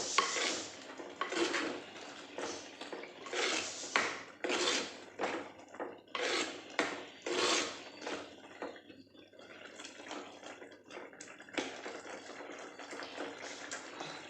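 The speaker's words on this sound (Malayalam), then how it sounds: "എന്നിട്ടെല്ലാം കൂടി ഒന്ന് ഇളക്കി കൊടുക്കാം." A spoon scraping and clinking against a pan while mushroom curry with curry leaves is stirred gives a series of quiet, rhythmic metallic strokes, some stronger than others, with short pauses between them.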